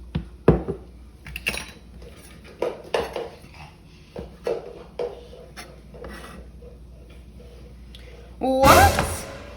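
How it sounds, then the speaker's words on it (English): A knife strikes a cutting board in irregular sharp taps as olives are chopped into thirds for Puerto Rican empanadas, the knocks clear and close, ending in a louder scraping clatter. "And we're gonna chop them in thirds."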